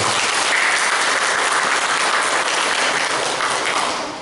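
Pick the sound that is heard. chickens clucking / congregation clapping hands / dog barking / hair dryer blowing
congregation clapping hands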